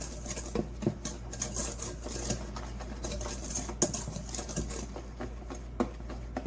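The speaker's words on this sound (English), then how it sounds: "we're going to whisk this together" Flour, granulated sugar and baking powder are whisked together in a mixing bowl, giving a steady, soft, rapid scratchy tapping close by with small irregular clicks, and no voices.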